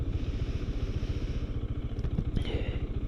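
A motorcycle equipped with ABS runs steadily with a pulsing engine throb, close and moderately loud, with light clatter and a brief whine toward the end and no talk.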